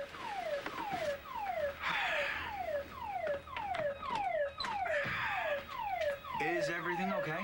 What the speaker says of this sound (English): What's that? Fire alarm?